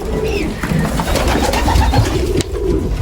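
Young pigeon chick among pigeons with white wings, cooing in soft low repeated calls at close range, with other bird sounds and faint rustling mixed in.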